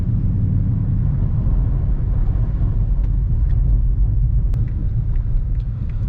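Dodge Charger RT driving around a corner in snow, heard from inside as a loud, steady low engine and road rumble with faint scattered clicks.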